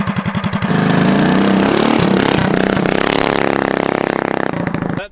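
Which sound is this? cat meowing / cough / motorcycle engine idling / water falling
motorcycle engine idling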